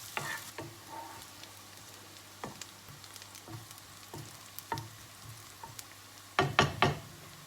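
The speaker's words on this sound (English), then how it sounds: "And here we just want to keep on stirring till the onions become" Chopped onions frying and being stirred in a pan, a steady soft sizzle broken by repeated scraping stirs and clacks, with a louder burst of stirring near the end.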